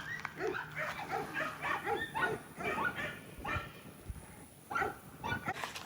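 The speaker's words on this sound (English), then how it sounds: "Ray came out and yelled at the dogs for barking" Several dogs bark and yip in a busy outdoor scene, with overlapping whimpers and short barks at moderate distance, fairly faint overall.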